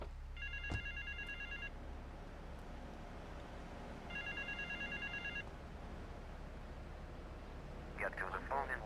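A payphone rings in GTA 3 Definitive Edition, two long electronic bell bursts a few seconds apart, steady and clear over low background hum, with a brief extra tone near the end.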